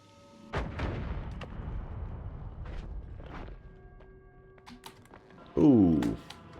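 Bomb blasts in the video game Noita land as a string of sharp, punchy booms with short decays, ending in a louder, warbling burst of debris noise.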